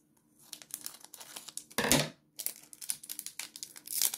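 Close crinkling and tearing of a foil Pokemon card pack wrapper, with a louder rip in the middle followed by continued crumpling.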